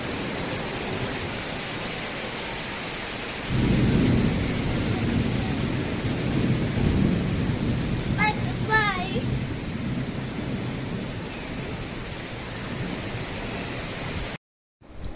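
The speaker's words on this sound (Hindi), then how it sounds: "सो देखिए कितनी धुआंधार बारिश।" A dense, steady roar of heavy rain that swells louder a few seconds in, with a low rumble beneath and a brief chirp partway through.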